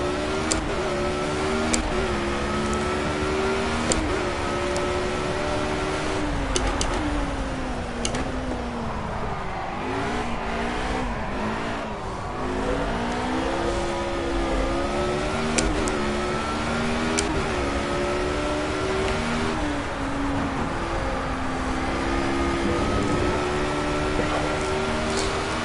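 Formula A race car engine on a lap of the Nürburgring in the video game Project CARS, a loud high whine rising and falling through gear changes, revving continuously across the whole run.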